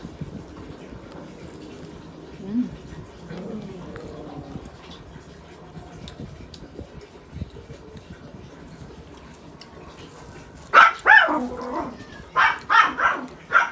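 After a quiet stretch of faint background noise, a dog barks several times in quick sharp bursts, fairly close.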